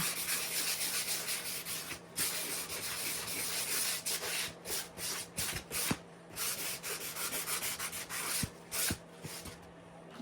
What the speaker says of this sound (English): Just a light sanding on it.